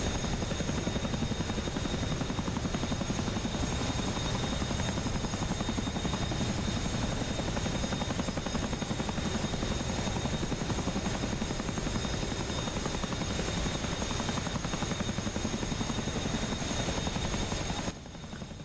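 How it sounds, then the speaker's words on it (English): A helicopter in the DCS World flight simulator drones loudly and continuously, its rotor and engine roar filling the whole stretch without a break before cutting off abruptly at the very end. "They're really nice helicopters though, like sort of big flying tank things."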